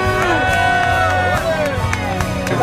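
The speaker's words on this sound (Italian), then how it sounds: "Un applauso ragazzi." A crowd at a ski race award moment in Livigno cheers and claps, with scattered sharp claps and whoops over a lively babble of voices, close and fairly loud throughout.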